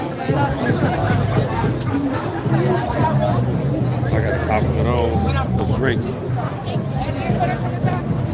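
A dense crowd murmurs and chatters at an outdoor Juneteenth festival in Leimert Park, a steady close hubbub of many voices, with a nearby speaker talking over it.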